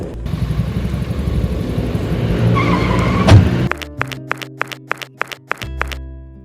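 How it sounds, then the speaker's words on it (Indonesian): A moving car rumbles along, then brakes suddenly with a short harsh jolt, after which the engine noise drops away and a series of sharp clicks follows. "Kenapa kamu ngerem dadakan sih?"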